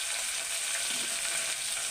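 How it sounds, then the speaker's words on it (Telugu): Spices for pepper rasam fry in hot oil with a dense, steady sizzle that stays close and even through the whole short stretch, with no talking. "ఇవి నూనెలో అయితే ఎగినాయండి."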